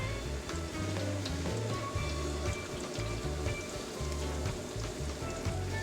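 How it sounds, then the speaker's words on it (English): Steady rain falling outside on a wet day in San Fernando, Trinidad, a continuous dense patter with a low rumbling undertone, fairly faint and constant throughout. "It's nice rainy weather Saheena."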